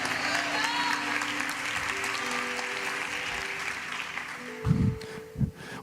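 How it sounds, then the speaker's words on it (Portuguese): A church congregation applauds in a steady wash of clapping, with voices and a few louder bursts of sound near the end. "Aplauda Ele, aplauda Ele, aplauda Ele"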